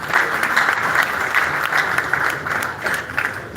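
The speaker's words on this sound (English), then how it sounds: "Round of applause, please." A crowd at a forex trading expo applauds steadily for a few seconds, a dense, even patter of many hands clapping at once.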